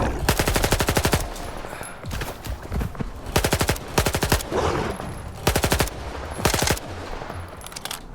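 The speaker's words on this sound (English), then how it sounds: "I shall just empty my mag indiscriminately" Rapid bursts of 9mm handgun fire in the video game S.T.A.L.K.E.R. 2, loud and close, with several strings of quick shots separated by brief pauses and a high whine in between.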